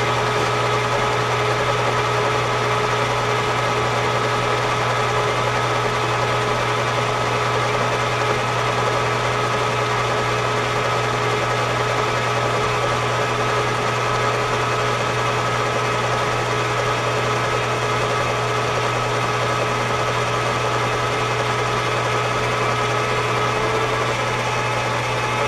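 A metalworking machine makes cutting passes on steel stock for a handmade wrench, taking 30-thousandths cuts; a steady, loud mechanical drone with a constant hum runs unbroken throughout, without talk.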